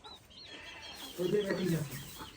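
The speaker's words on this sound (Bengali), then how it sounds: "আর এই যে আমাদের মোরগটা" A farm rooster clucking in a yard near a banana tree, a short burst of low clucks midway with faint chirps around and a voice speaking nearby.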